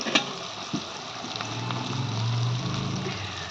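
Duck meat hitting a pan of onions already fried reddish-brown, with garlic rubbed into the meat, giving a steady close sizzle that swells toward the middle after a couple of sharp clatters at the start.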